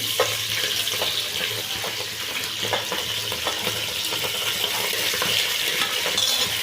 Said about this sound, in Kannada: ಈಗ ಈರುಳ್ಳಿ ಫ್ರೈ ಆಗಿದೆ ನಾನು ಚೆಂದಾಗಿ ಬೇಯಿಸಿ ಬಿಸಿ ಮಾಡಿ ಇಟ್ಕೊಂಡಿರೋ ಬೋಟಿ ಹಾಕೊಳ್ತಾ ಇದ್ದೀನಿ